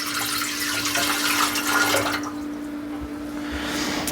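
Water, 180 milliliters, is poured into a bread maker, a steady splashing trickle for a few seconds that eases off toward the end, with no voices.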